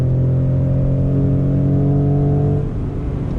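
A 2020 Ford Raptor pickup without a V8, fitted with the Recaro package, accelerates under throttle: a loud, close, steady engine drone that holds strong, then eases slightly near the end, with no talking.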